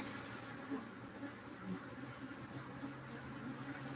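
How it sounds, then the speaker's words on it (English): Honeybees buzz around a hive frame holding drone brood, worker brood and honey, a soft continuous close-up hum with small flickers as individual bees pass near. "bee trying to sting my finger"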